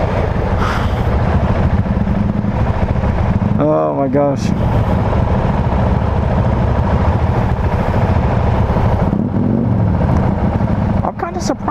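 A 2019 Husqvarna 701 Vitpilen motorcycle with an Akrapovic exhaust, its engine running loudly and steadily close by, with a brief rising rev in the middle while people talk over it.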